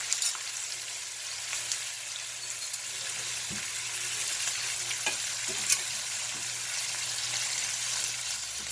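Short ribs searing in a hot pan give off a continuous dense sizzle and crackle, steady and close for several seconds, with only a few faint clicks and no voices over it.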